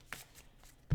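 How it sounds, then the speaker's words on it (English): A deck of tarot cards gets a single quick shuffle, a soft papery riffle near the start, then faint rustles and a louder thump as the deck settles at the end. "I just like to do one shuffle."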